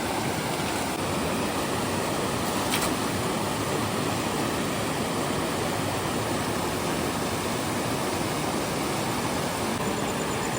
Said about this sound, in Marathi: विजा चमकता आणि पाऊस पण पडतो थोडा थोडा